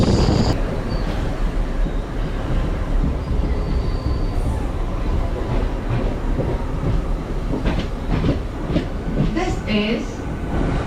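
An MMTS local train runs through Hyderabad toward Lingampally, heard from inside the coach: a continuous loud rumble with wheel clatter and some squealing, and an onboard announcement and passengers' voices over the noise.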